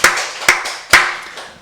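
Church congregation at a Wednesday worship service clapping together in three sharp bursts, each a dense wash of many hands that fades quickly before the next, close and loud, with no talking.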